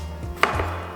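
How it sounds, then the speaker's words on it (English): Garlic and vegetables being chopped with a knife on a board, a single close thud of the blade with a slight resonance, alone without talk. "chop the garlic."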